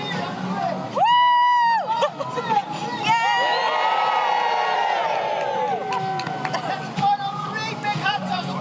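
Graduation ceremony crowd cheering loudly, with a sharp whistle-like whoop early on and rising shouts and whoops swelling through the middle, constant babble beneath; nearby voices talk over it.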